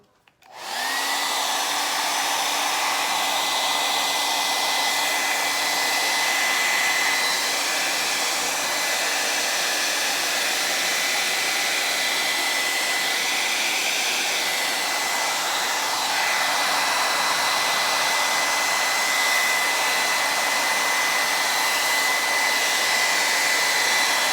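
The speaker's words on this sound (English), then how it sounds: "Now I'll take the hair dryer" A hair dryer starts up and blows steadily and loudly over a paint pour, with a constant high whine, running alone without pause.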